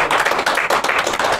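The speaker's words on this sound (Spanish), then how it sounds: "Denle un aplauso," Rhythmic clapping from a church congregation during a Spanish-language Sunday worship service, loud, close and in quick repeated bursts.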